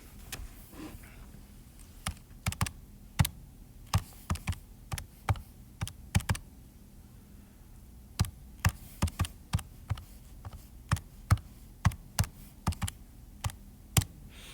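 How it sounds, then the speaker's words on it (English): Someone types a geometry calculation on a computer keyboard: a quiet room with irregular bursts of sharp key clicks, some in quick pairs and runs, spread over the whole stretch. "Oh, I'll just type it in."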